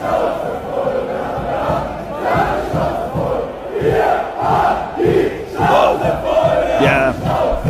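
A large crowd of protesting German farmers shouts together in loud, rhythmic surging bursts, the massed voices rising and falling in waves of chanting and yelling.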